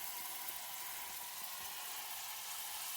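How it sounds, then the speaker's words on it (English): Silverside corned beef sizzles steadily in a pot, a continuous hiss of frying that holds at an even level throughout with no talk over it. "see, that's a nice sizzle there"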